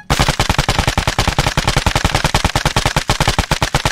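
Rapid, loud automatic gunfire in Arma 3 in a continuous burst, evenly spaced shots hammering without pause, close and punchy like game weapon sounds.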